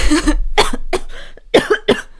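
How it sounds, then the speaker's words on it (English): Several harsh coughs in quick succession, loud and close to the microphone, with no talking. "Apparently, it's just coughing."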